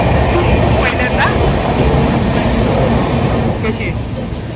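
Mandovi Express passenger train running along the rails, a steady loud rumble with broadband rattle heard from inside the carriage throughout, easing slightly near the end.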